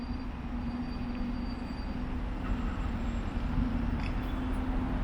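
A train runs at Kingston railway station in Kingston upon Thames, London, a steady near rumble with a sustained low hum and faint metallic squeal, no talk over it.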